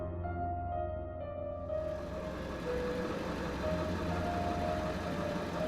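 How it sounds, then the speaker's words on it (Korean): A boat engine approaching at sea, a steady low drone and rumble that slowly grows fuller and louder, heard alone without voices. "제가 있는 배로 접근하는 다른 배의 엔진 소리가 들려왔습니다"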